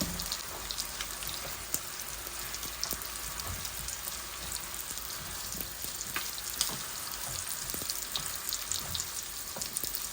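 Marrow fries in a curry pan in a Bengali home kitchen, with a faint, continuous hiss and crackle steadily holding for ten seconds, dotted with small pops and light stirring taps.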